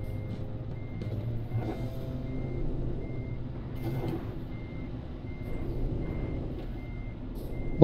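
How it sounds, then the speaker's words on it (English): Truck reversing beeps in Euro Truck Simulator 2 multiplayer, a steady repeating electronic tone that pulses evenly throughout over the low rumble of a heavy truck engine, with no talking. "Why is my truck going backwards all the time?"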